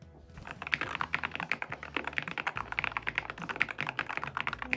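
Fast, continuous typing on a computer keyboard, crisp close key clacks in an even rapid rhythm after a brief quiet start.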